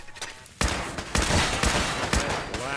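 Gunfire in Fallout 4, including a turret firing on the player, bursts in after a quiet opening as sharp, loud volleys of repeated shots, with several heavy cracks punctuating the rapid sustained fire.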